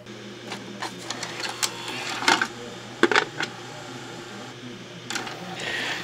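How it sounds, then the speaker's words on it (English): The tape mechanism of a JVC SVHS VCR, cranked by hand to eject a stuck tape, gives a series of close mechanical clicks, ratchets and whirring scrapes in irregular bursts. "Have to crank it out by hand."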